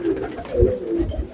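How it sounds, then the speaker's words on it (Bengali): A teddy pigeon coos in short, low, throaty bursts at close range, fairly loud, with no one speaking. "এটা একেবারে স্পেশাল টপ কোয়ালিটির একটা কবুতর"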